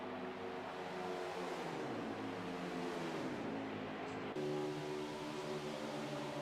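Race car engine at Las Vegas heard steadily at a distance, a continuous droning roar with shifting pitch as the car laps the track, fairly faint.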